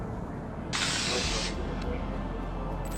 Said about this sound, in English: a dizzy skunk suddenly sprays an officer during an attempted interaction